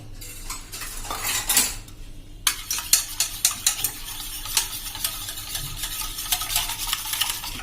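A spoon scrapes and clinks against a pot while a flour and water mixture is stirred, a run of rapid scraping followed by sharper repeated taps and clatters, close and alone.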